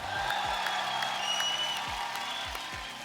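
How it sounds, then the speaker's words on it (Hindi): Studio audience on The Kapil Sharma Show applauding the musicians, a thick, sustained wash of clapping with a few whoops and cheers, under low thumping beats from the stage. "और हमारे म्यूजिशियन दोस्तों के लिए जोरदार तालियां हो जाएं।"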